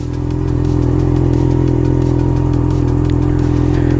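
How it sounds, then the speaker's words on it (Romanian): A warmed-up motorcycle engine idles during an oil change, running loud and close with a steady, even rumble and no revving. "Bun, oprim motocicleta"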